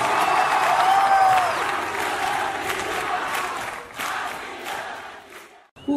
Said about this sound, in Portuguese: Merece o nosso aplauso,